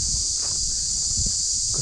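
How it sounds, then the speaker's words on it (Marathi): Crickets chirp loudly in forest near Madhu Makarand fort in Maharashtra, a dense, continuous high-pitched trill filling the clip, with faint rustling and soft footsteps below and no talking. "जे रातकिडे असतात ना आपल्याला रात्री ऐकायला येतो आवाज."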